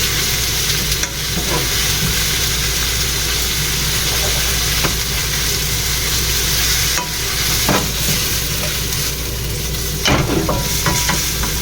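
Pancit bato and sotanghon noodles are stir-fried in a pan, with a continuous loud sizzle and scraping, stirring clatter throughout.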